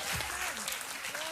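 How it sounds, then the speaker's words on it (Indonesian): Church congregation applauding during an Indonesian sermon, a short wash of clapping with voices calling out over it, lasting little more than a second. "Tepuk tangan bagi Yesus."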